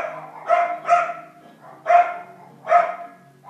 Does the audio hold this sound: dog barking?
yes